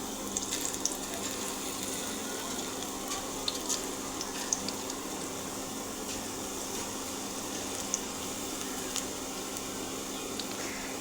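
Small spoonfuls of bhaji batter fry in hot oil, giving a continuous bubbling sizzle that stays even and close, with faint crackles scattered on top.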